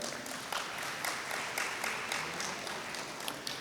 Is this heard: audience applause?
yes